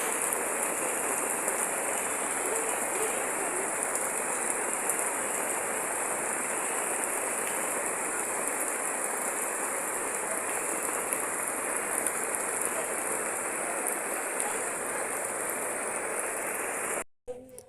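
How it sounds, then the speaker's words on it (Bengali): Steady rain falls without a break, a dense, even hiss that stays constant for the whole stretch and cuts off abruptly at the end. "সকাল থেকে বৃষ্টি।"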